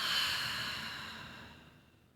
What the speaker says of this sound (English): inhaling and exhaling. Inhaling and exhaling.